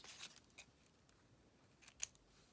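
Scissors cutting a piece of paper in half for a journaling craft, a few quiet close snips and paper rustles, faint and alone without talk.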